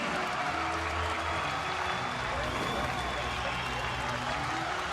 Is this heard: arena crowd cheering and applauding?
yes